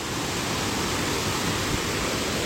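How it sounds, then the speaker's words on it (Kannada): A waterfall on a hillside during a Kerala trip sends up a loud, steady roar of rushing water, a constant dense wash with no pauses and no voices. "ಸೌಂಡ್ ಕೇಳಿಸ್ತಾ ಇರ್ಬೋದು, ಇಲ್ಲೋ ಫಾಲ್ಸ್ ಇದೆ, ತುಂಬಾ ಜೋರಾಗಿ ಹೋಗ್ತಾ ಇದೆ ನೀರು"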